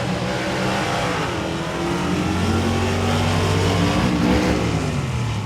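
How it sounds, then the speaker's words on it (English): A 331 small-block Ford drag car at a drag race, engine screaming to very high revs on a missed 1-2 shift, a loud, sustained, close roar with rising and falling pitch. "Big revs from the little 331, and unfortunately a missed gear or a missed shift there from 1-2."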